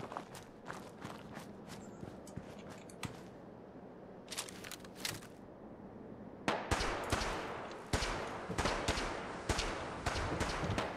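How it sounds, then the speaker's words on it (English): Rapid bursts of gunfire crackle through a busy Fallout 4 game soundscape, with footsteps and action noises growing louder and denser in the second half. "I hear gunfire."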